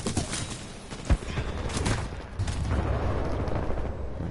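Amped weapon fire in the video game Titanfall 2, a sharp booming shot followed by a rolling stream of rapid gunfire bursts and battle noise.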